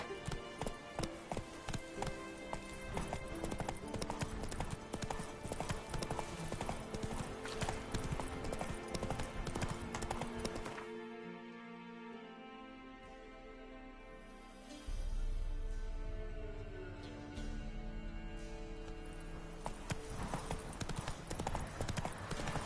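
Horse hooves clip-clopping at a steady galloping rhythm in The Witcher 3 on PS5, a loud continuous patter that briefly gives way to a snort or whinny and music before resuming, with a voice calling out.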